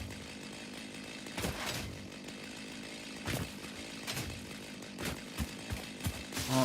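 Chainsaw in the video game Satisfactory buzzes steadily while cutting trees, its continuous whine broken by several sharp bursts as the blade bites in, fairly loud and close with no talking.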